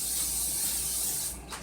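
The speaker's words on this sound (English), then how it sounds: "lightly spray this pan" Cooking spray hisses steadily onto a baking pan for yeast rolls, a close, continuous aerosol spray lasting over a second before cutting off.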